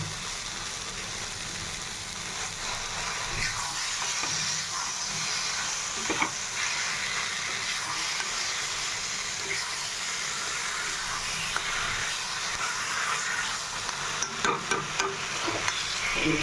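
A hilsa fish head frying in a pan gives off a dense, steady sizzle and hiss, close and loud throughout, with a few faint clinks near the end.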